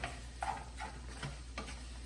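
Ground beef cooking in a pan is stirred, with soft scraping strokes at a slow rhythm over a steady low sizzle, close but fairly quiet.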